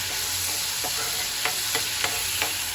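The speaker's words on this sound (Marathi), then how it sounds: "आलं लसूणची पेस्ट छान परतले गेले की त्याचा वास येत नाही म्हणून ती छान चांगले मी परतत आहे" Ginger garlic paste sautéing in a pan for a fish curry, a loud continuous sizzle broken by several soft scraping strokes of a spatula stirring it.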